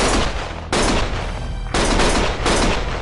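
Dense, loud bursts of gunfire from the video game Lost Judgment, in rapid fusillades that pause briefly and then resume, with no talking.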